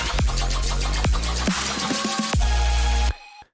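Electronic dubstep section built on saw synths and a riser: dense, loud synth layers punctuated by repeated heavy drops, ending in an abrupt cutoff, with no speech.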